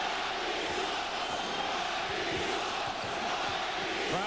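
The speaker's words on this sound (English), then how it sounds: "Crowd with their comments on Pat Riley" New York fans in a basketball arena at a 1999 Heat vs Knicks playoff game keep up a continuous, distant roar of shouting and chanting for about four seconds, with no single voice standing out.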